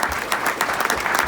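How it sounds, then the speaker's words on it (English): Guests at a university scholarship luncheon break into a short burst of applause, with brisk, fairly loud clapping from a roomful of people that stays steady for the whole moment. "How about another round of applause?"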